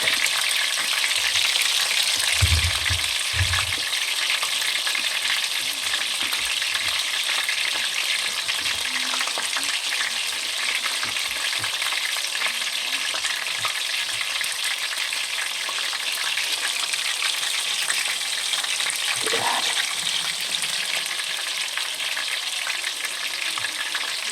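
Squid rings (kalamares) fry in hot oil with a dense, continuous sizzle lasting throughout, broken by a few soft clinks of stirring and no talking.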